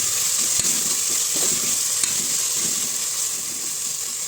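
Garlic and ginger paste fries in a pan with a steady, loud hiss and sizzle that never lets up, broken by a few faint clicks of stirring.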